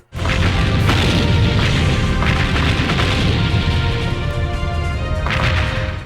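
Tank combat from the PS2 video game Seek and Destroy: dense, loud booming explosions and crashing impacts roll continuously, with sharper blasts near the start and end.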